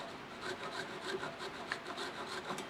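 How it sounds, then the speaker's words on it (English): Square scraper cutting wood inside a turned hollowform on a lathe, a quiet, rhythmic scraping and rasping with regular pulses as the spinning piece passes the tool, close and without talk. "I do that, of course, with a square scraper, and I'll come in on the corner"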